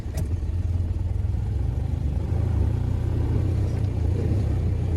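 A vehicle engine idles and revs low and steady while creeping forward slowly, a continuous close rumble with a slight rise in the second half and no talking, during maple syrup season work on a vehicle fitted with a speed shovel.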